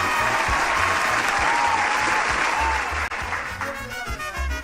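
Loud, sustained applause from a studio audience greeting a guest on a Paraguayan sports talk show, with dense steady clapping that dips briefly near the end before continuing.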